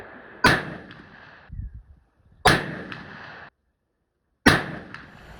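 Three sharp, loud muzzleloader shots fired with a two-pellet load of 777 Magnum powder, evenly spaced about two seconds apart, each a hard crack with a brief decaying tail.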